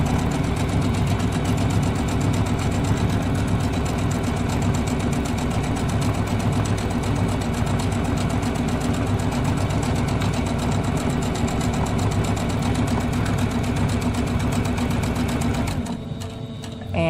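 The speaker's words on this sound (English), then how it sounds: "We're going to sew it together." A sewing machine runs steadily, stitching a Kimberbell Main Street Celebration pillow wall hanging, with a fast, even mechanical whir and chatter that continues almost without pause, then stops abruptly near the end.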